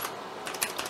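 Keys on a vintage Amiga 1000 keyboard pressed one after another in quick succession to test them, giving a few soft, close clicks.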